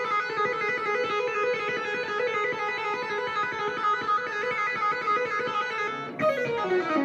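Electric guitar plays a fast, smooth 80s shred legato lick of hammer-ons and lift-offs, with notes flowing into one another and ringing steadily, then a sharper pluck near the end.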